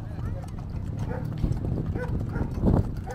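Horse or mule hooves clip-clop on the ground at a rural celebration in Tula, Tamaulipas, a steady, uneven patter of hoofbeats close by, mixed with people talking.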